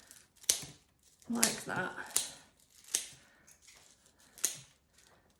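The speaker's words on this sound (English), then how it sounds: "So I'm going to cut them all off" Scissors snip through stems for a Christmas wreath in a floristry setting, giving several sharp, close cuts at irregular intervals, with a person talking briefly between the snips.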